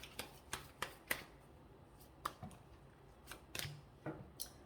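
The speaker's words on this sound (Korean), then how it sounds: "여기서 좋은 카드 하나 뽑겠습니다." Tarot cards being drawn from a deck during a weekly fortune reading, giving a quiet series of crisp card snaps and slides at an irregular rhythm, close and soft, with no voices.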